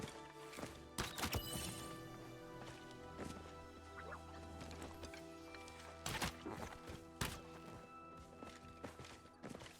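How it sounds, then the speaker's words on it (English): Horses walking in a video game, their hooves clip-clopping in sparse, uneven clusters of sharp knocks over a low ambient hum, moderately quiet and without speech. "All these fancy people on their horses."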